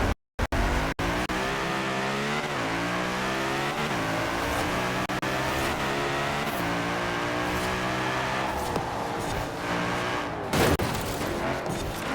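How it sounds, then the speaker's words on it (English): An Audi RS4 racing in the Forza Horizon video game, its engine revving hard and continuously through gear changes with tire squeal, loud and close, with no one talking over it. "now let's test the Audi in an actual race and see how it does."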